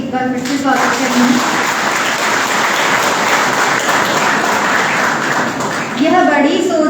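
Audience at a guest lecture on higher education reforms applauds to welcome the lecturer, with steady loud clapping filling most of the clip, and a speaking voice briefly at the start and again at the end.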